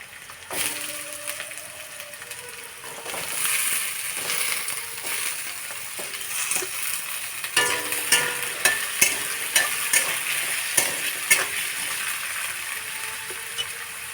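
Potatoes tossed into lightly fried onions sizzle in hot oil while being stirred, a steady frying hiss with repeated clinks and scrapes of the spoon growing sharper and more rhythmic in the second half.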